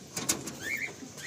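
Pigeon coos in a Madrasi pigeon loft: a couple of soft, brief cooing calls close by, with faint chirpy bird sounds in the loft and no talking.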